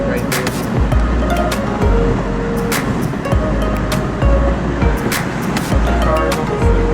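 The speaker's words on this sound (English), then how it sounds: "Cars on the freeway." Cars on a freeway heard from inside a moving Saturn Vue, a continuous loud road roar with repeated swooshes of passing vehicles, while someone talks over it.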